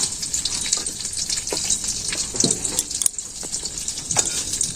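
Eggs sizzle and crackle in hot oil in a pan in a Bangladeshi village kitchen, a continuous bright frying hiss with scattered pops and a few soft utensil knocks, no talking.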